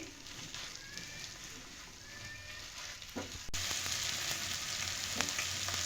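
Boiled peas and garam masala filling mixed in a pan over a steady, soft sizzle, with faint scraping strokes and a louder burst of frying partway through, no voices.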